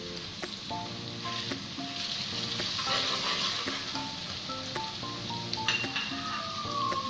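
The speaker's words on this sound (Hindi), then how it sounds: "इसमें ये एक मीडियम प्याज और इसको थोड़ा फ्राई करेंगे।" A medium onion frying in a pan: a steady, close sizzle with scattered crackles and occasional light scrapes, continuous for several seconds with no voices.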